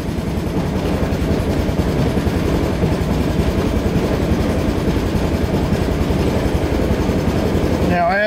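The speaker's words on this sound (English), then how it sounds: "It starts warming up, it'll gradually get up to above 1500 RPMs, which is where it's supposed to idle." A 2004 Honda Reflex scooter engine idles after a cold start at 14°F, a steady low, rapid putter that holds close and even throughout, with a brief clatter at the very end.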